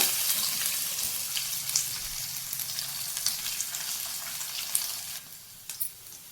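Onions and curry leaves sizzle and fry in hot oil in a home kitchen, a steady crackling hiss with small pops and occasional stirring clinks, fairly quiet and alone.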